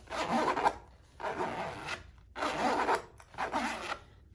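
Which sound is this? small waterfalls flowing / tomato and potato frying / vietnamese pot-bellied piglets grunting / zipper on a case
zipper on a case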